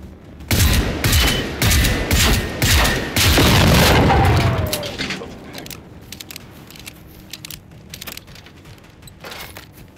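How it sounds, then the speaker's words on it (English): Loud, close bursts of gunfire and booming impacts rattle through the first few seconds of a Generation Zero video game firefight. Thinner, scattered shots and mechanical clatter follow. "Oh my god, who's shooting at me now?"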